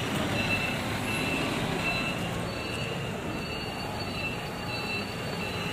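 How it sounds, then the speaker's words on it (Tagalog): An MRT train at a night-time station, a steady loud rumble of wheels and rail noise with faint high squeals, no talking. "Ayan po, ayan pala yung MRT, oh. MRT Daho Station."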